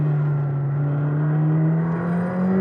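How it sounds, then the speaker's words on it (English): A McLaren 765LT engine through a titanium exhaust drones steadily at a low, slightly gravelly, tuneless pitch, slowly climbing as revs rise, loud and close with no voices. "it's only making a slightly gravelly, slightly tuneless engine louder"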